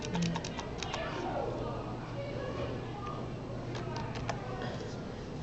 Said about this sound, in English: I am going to type in